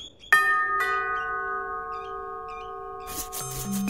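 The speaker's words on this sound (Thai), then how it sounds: "ฉันจะกดกริ่งแล้วนะ" A doorbell gives a two-note ding-dong chime at a house visited to see a grandmother; both ringing tones sustain clearly, then a brief clatter and lower tones follow.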